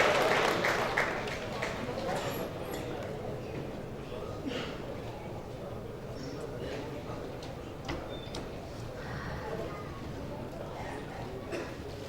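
Mushaira audience claps for a poet, a dense burst of applause that stays steady under a speaking voice and tapers slightly toward the end.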